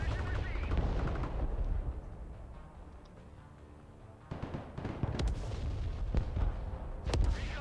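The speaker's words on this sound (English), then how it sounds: "Yeah, those artillery batteries are still giving us hell." Battlefield combat in the video game Broken Arrow, with repeated booming artillery blasts and bursts of gunfire, some heavy and close, others sharp cracks, spread over several seconds with a quieter lull midway.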